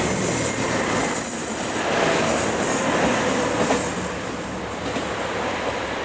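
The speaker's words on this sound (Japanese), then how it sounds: "こうして上りの特急が来ました" A limited express train rushes past close by at Tsubojiri Station on JR Shikoku's Dosan Line, a loud sustained roar of rolling wheels and rumbling carriages with a faint metallic squeal, steady throughout.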